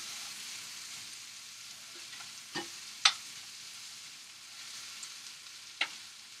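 Apple and pancetta stuffing sizzles steadily in a frying pan, a faint constant hiss broken by a few soft clinks and scrapes of stirring.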